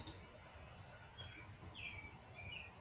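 Small birds chirp faintly outdoors, a few brief high calls drifting in through an open window over a quiet room background.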